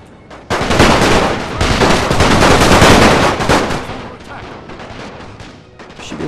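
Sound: gunfire in video game The Great War

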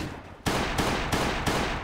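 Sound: gunfire in the video game Last Day On Earth Survival

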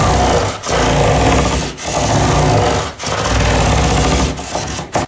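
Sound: sanding guitar with 400 grit wet and dry sandpaper

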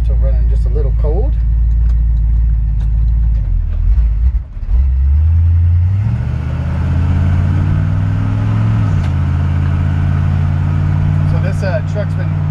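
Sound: 1954 Chevrolet rat rod truck with 350 V8 engine running

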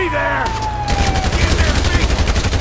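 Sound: gunfire during headshots in video game GTA 5

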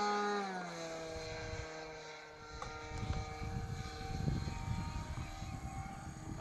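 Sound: aircraft landing

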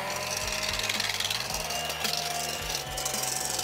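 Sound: power mixer whipping egg whites

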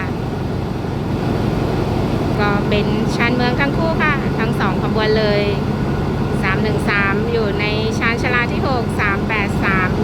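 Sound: Alsthom 4123 diesel locomotive with Caterpillar engine

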